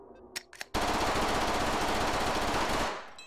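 A gun empties its magazine in the VR game Hot Dogs, Horseshoes & Hand Grenades: a few handling clicks, then an unbroken roar of rapid fire for about two seconds that tails off.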